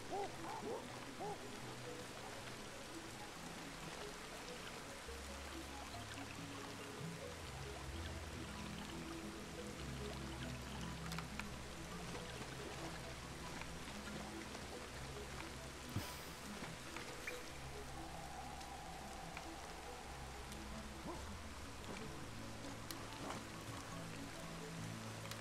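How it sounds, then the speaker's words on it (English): Steady rain from the video game Ancestors: The Humankind Odyssey, a continuous wash of falling water with low rumbling underneath, holding at an even level throughout without pauses. "God, it's raining."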